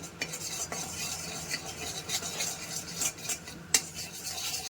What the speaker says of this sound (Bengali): দিচ্ছি কাশ্মীরি লাল লঙ্কার গুঁড়ো দিয়ে ভালো করে আমি নাড়িয়ে নেব